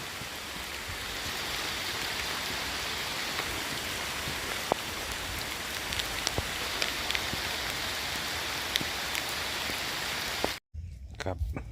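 Steady rain falls with a constant hiss and scattered drops pattering on surfaces nearby, cutting off abruptly near the end.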